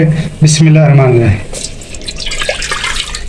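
Water pours into a cooking pot on a stove for sugar syrup, a brief gurgling splash rising in pitch as the pot fills, with a voice speaking over it and quieter room noise afterward.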